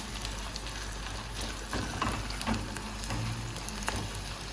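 Pepper frying in palm oil over low to medium heat for a Nigerian egg stew sauce: a soft, continuous crackling sizzle with scattered small pops, fairly quiet and without talk.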